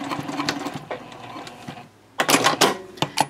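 Sewing machine stitching the bottom lining panel of a bowler bag at a 2.5 stitch length, short bursts of fast mechanical whirring, a brief pause, then louder close-up runs of stitching.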